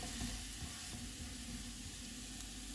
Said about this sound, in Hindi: चूल्हे को कम रखेंगे और इसको 1 मिनट तक फ्राई करेंगे।